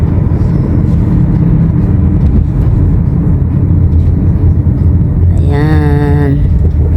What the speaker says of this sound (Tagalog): Ayan o, traffic.